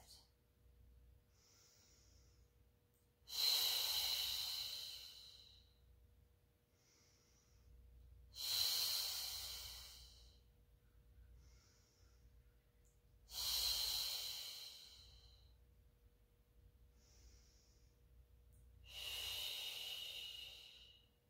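Slow, deliberate breaths during a Pilates mat exercise: four long, airy exhales recur about every five seconds, close and fairly loud, with softer inhales between them against a quiet background.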